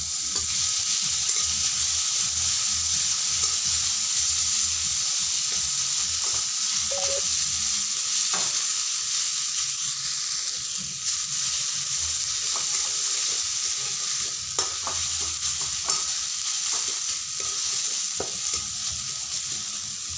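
Ginger and garlic sizzle steadily in hot oil in a pan for paratha, a continuous close hiss broken by scraping and clinking as a spatula stirs them.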